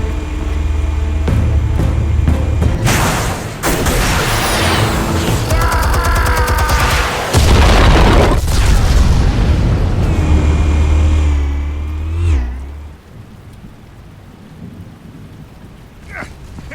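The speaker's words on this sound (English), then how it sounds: "Explosives armed. Fire when ready." Explosives detonating in Batman: The Telltale Series: loud, rumbling booms and crackling blasts sweep across the scene in a few heavy waves, layered over a sustained musical score, then die away to a quieter tail.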